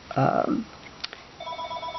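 A telephone ringing indoors in a craft room: a short electronic ring with a steady tone that starts partway through, over a muffled room tone, following brief talking at the start.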